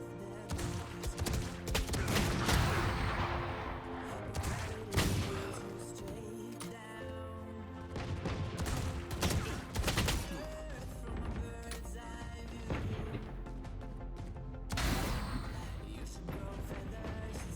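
Gunshots crack out in irregular bursts during target shooting practice, loud and sharp with pauses between, some sounding close and rapid.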